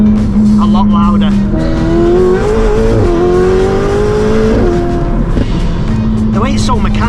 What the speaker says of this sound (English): But this Brook Race exhaust now, as you can hear, really noisy